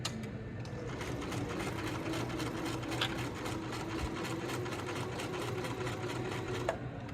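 A sewing machine stitches plush fleece fabric, running in a steady fast whir without pause, close and fairly loud, with no voices.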